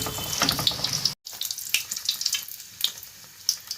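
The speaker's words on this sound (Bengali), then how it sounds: "এটা কিন্তু একেবারে জোর আঁচেই ভাজতে হবে।" A Bosnian paratha fries on high heat in a pan, giving a steady, close, hissing sizzle that cuts out for a moment and then resumes with scattered crackles.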